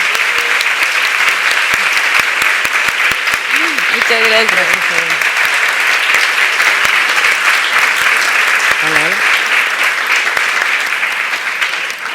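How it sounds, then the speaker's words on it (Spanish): A live audience gives sustained applause at a public talk, a steady, loud wash of clapping that runs the whole time, with brief spoken thanks over it. "pero primero un aplauso televisivo"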